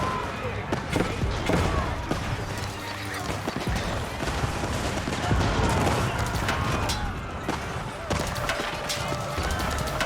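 Musofadi gunners trade gunfire in an Age of Empires 4 battle, sharp scattered shots and crackling volleys amid hoofbeats and clashing, with a commentator speaking over the action.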